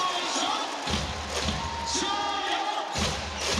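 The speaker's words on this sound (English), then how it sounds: "That rattles in, crowd goes wild." A basketball arena crowd roars after a made mid-range shot in a T1 League playoff game between the Tainan TSG Ghosthawks and Kaohsiung, a broad, sustained cheer with a few heavy thumps, close and loud.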